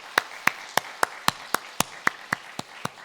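Church congregation clapping together during a Sunday worship service, a steady rhythmic beat of about a dozen sharp claps at even intervals, moderately loud, with no talk over it.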